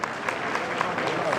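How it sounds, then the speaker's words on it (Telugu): A crowd at a political rally for Chandrababu Naidu claps in a brief, steady burst of dense applause, fairly loud and continuous over the short moment. "మన నాయకుడు చంద్రబాబు గారికి ఒకసారి గట్టిగా చప్పట్లు కొట్టి"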